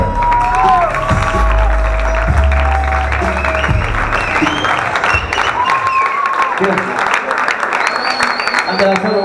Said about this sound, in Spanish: Ahora ese aplauso fuerte